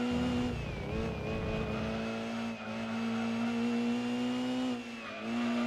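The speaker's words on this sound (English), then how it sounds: "This engine sound is so relaxing." A Mazda RX7 engine in the Gran Turismo 2 racing game holds a steady, high buzzing drone at nearly constant pitch, with only slight dips and swells, loud and alone throughout.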